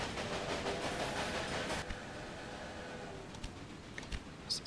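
Trains run in the video game Railway Empire, giving a soft, continuous rolling rumble and hiss that thins out halfway through, followed by a few faint clicks and small bursts, all fairly quiet with no speech.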